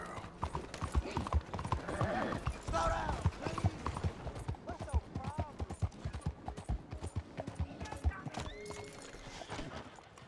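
Horse hooves clip-clop steadily through a Red Dead Redemption 2 game scene, rhythmic and close, with occasional whinnies and voices talking over the galloping.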